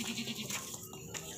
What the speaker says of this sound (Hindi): मोटा ताज़ा वजनी बकरा है, ज़बरदस्त बकरा है।